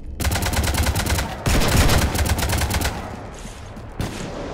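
Rapid automatic gunfire rattles aboard a ship in Mass Effect 3, dense bursts of loud, close shots in sustained volleys that thin out and end with a final sharp crack.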